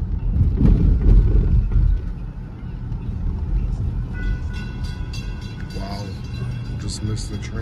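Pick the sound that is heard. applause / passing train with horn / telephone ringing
passing train with horn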